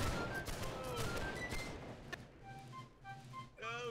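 Musket volley fire in the Napoleonic-era battle game Holdfast: Nations at War, a burst of overlapping gunshots with a sharp crack near the middle, amid battlefield din and shouted voices.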